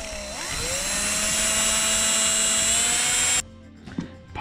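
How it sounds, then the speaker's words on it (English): A power drill whines loudly as it drills out holes on a mini bike mount, spinning up and holding a high steady pitch before stopping abruptly, followed by faint handling clatter. "So I'm gonna drill out these holes here."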